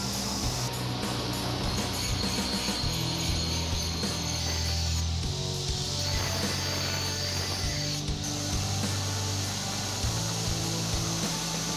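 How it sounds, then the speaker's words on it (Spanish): Coarse 40-grit sandpaper scrapes over an old ball-peen hammer being shaped into a tomahawk axe, a continuous rasping grind with uneven strokes, close and steady throughout. "Para este proceso iniciaré con la lija grano 40 e iré aumentando hasta llegar al grano 320."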